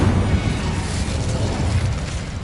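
An Incendio fire spell cast in the Hogwarts Legacy video game gives a dense, roaring whoosh of flame that holds steady and loud for the whole stretch, with a rumbling low end.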